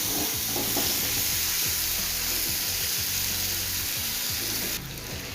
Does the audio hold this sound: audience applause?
no